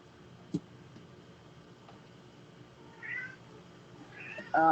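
Cats meow nearby in a quiet room during a podcast, a couple of short mews followed by a louder, closer cry at the end, with no talking over them.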